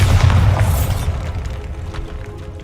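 The Bombarda spell in the Hogwarts Legacy video game sets off a single deep, booming explosion that hits hard at once and then fades into a rumbling decay.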